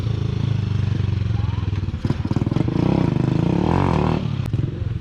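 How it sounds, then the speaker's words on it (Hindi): Motorcycles rev and roar nearby while riders do wheelies in a busy public park area, a loud continuous engine drone rising in pitch with clattering and scraping underneath. "ये भाई साहब पीछे यहाँ पे बाइक्स पे ना यहाँ पे व्हीलिंग कर रहे हैं"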